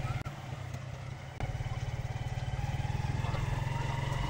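A small motorcycle engine runs close by on a narrow one-way road, a steady low chugging pulse that grows louder and more rhythmic after a brief dip.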